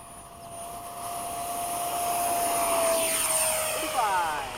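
An F-16 fighter jet makes a fast pass at Bayside, its roar swelling over a few seconds with a steady whine, then shifting pitch and fading as it goes by.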